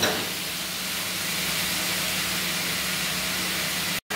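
Curry for a Kolkata Decars Lane chicken stew, seasoned with black pepper, fries in oil with a steady broadband hiss and sizzle, loud and constant throughout with a brief dropout near the end.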